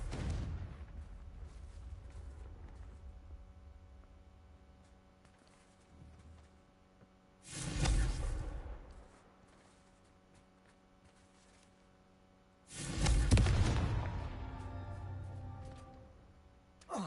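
Confringo blasting spells in Hogwarts Legacy, three booming explosions spaced several seconds apart, each a sharp loud burst that rumbles and fades, over a low ambient game background.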